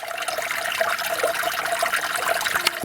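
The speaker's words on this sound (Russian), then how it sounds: "Таежный ручей капает." A small taiga forest stream trickling and dripping close by, with a busy, continuous babble and a few sharper splashes.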